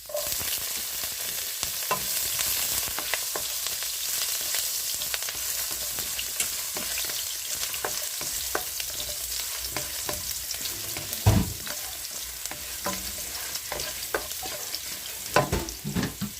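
Ginger sautéing in a little oil for squash and crab in coconut milk, a continuous close sizzle with frequent stirring clicks and scrapes and one louder clatter, no voices over sixteen seconds.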